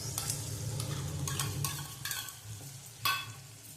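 Soaked masala and grated ginger are stirred into potatoes frying in hot oil, for a Gujarati potato shaak. A steady sizzle runs under repeated scraping strokes of a spoon against the pan, with one sharper clatter near the end.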